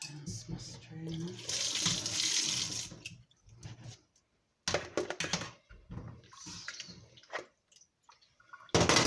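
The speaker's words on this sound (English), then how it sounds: "Rinse my strainer." Water from a kitchen tap splashes over a strainer being rinsed in the sink, in bursts that stop and start, with clatter and quiet handling noises between the runs.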